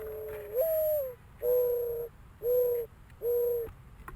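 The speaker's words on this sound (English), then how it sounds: "that's a mourning dove" A mourning dove coos in four soft, drawn-out notes with short pauses between, fairly close and alone against quiet background.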